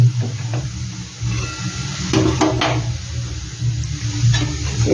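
Homemade sweets frying in hot oil as the oil is moved around, a steady close sizzle with intermittent stirring scrapes and bubbling, no voice over it.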